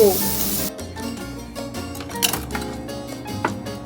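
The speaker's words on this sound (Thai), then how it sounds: "ปิ้งย่างทีละน้อยน้อยนะครับ" Shrimp and wagyu beef sizzle on a barbecue grill, a steady close crackle and hiss with occasional utensil clicks and taps against the cooking surface.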